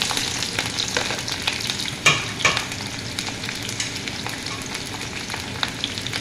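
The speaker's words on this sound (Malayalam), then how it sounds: "ആദ്യം കുറച്ച് സവാള ഇട്ടിട്ട് അത് നമുക്ക് ഒന്ന് മൂപ്പിച്ചെടുക്കാം" Onions sizzle steadily in hot oil, a constant crackling hiss with a few louder pops and light stirring, no talking.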